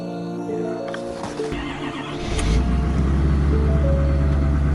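A Ford Super Duty diesel pickup is cold-started, beginning with a brief whine and rising to a loud, steady diesel idle that settles into a low, continuous rumble.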